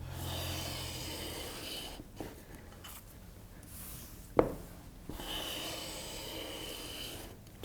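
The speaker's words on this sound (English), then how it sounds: "It's got to be one of my favorite things about woodworking, is taking shavings." A hand plane takes shavings off a thin wooden kumiko strip, producing soft rasping strokes in quiet surroundings, with one sharp knock midway.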